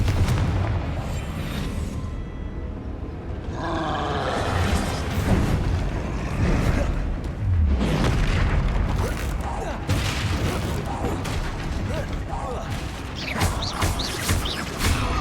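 Repeated booming spell blasts from the Confringo blasting charm in a Harry Potter video game, loud, dense explosive bursts with crackling debris layered over continuous game ambience across the whole stretch, a voice speaking at times.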